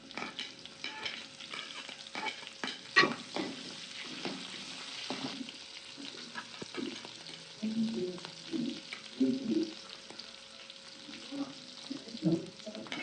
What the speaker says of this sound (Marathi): आता कढीपत्ता तेजपत्ता टाक. आपण मिरची टाकतो.